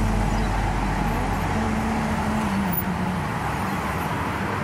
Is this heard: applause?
no